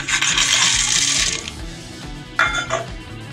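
Peanuts poured into a salad bowl with chopped carrot and boiled chickpeas: a dense rattling patter of nuts tumbling in, then a couple of short clinks and scrapes, close by.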